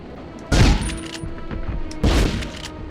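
Two heavy shotgun blasts from the Medal of Honor game, about a second and a half apart, each a loud close boom that fades into a rumbling tail, with no voices.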